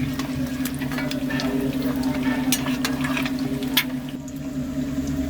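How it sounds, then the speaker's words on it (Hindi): Eggs fry in a pan for an egg curry, gently stirred until browned, making a continuous close sizzle and bubbling with light scraping over it, and no talk. "अंडे हमारे फ्राई हो रहे हैं। इन्हें ब्राउन होने तक पकाएंगे। और हल्के हाथों से चलाते रहेंगे।"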